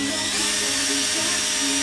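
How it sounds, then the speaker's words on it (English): A power drill enlarges a hole during the build of a Revolver 50cc ARF model aircraft, its bit whining steadily and loudly at close range for the full length, with slight wavering as it cuts. "Keep trimming just a little bit with the right size drill bit."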